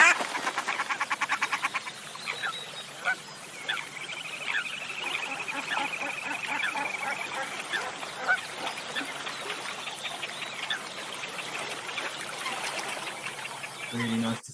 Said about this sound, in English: I think we've got a short video of Shelduck here.